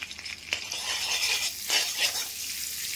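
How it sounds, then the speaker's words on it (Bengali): A spoonful of butter melts in a pan with oil and gives a close, bright hiss and crackle that swells and fades in waves, with a few stirring scrapes. No voices are heard. "এখানে আমি এক চামচ বাটার অ্যাড করছি। বাটারটা একটু মেল্ট হয়ে গেলে"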